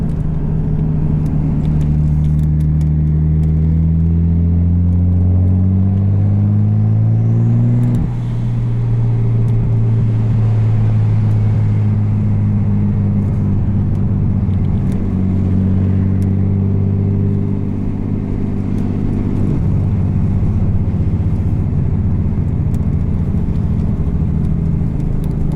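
A 1993 Nissan R33 GTST engine pulls hard while driving, revving up through the gears with clear shifts and drops in pitch, loud and close from inside the cabin, with no talk.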